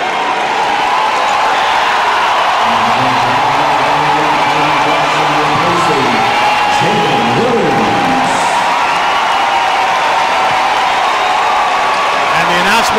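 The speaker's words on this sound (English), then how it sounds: "listen to this crowd" Basketball arena crowd cheers loudly and continuously for Jalen Williams during a college game against Alabama State, a broad roar with whoops and shouts, with an announcer talking over the top.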